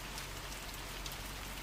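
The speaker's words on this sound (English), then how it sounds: "Raining, huh?" Steady, soft rain in a video game hisses evenly with no other sounds, a quiet continuous patter.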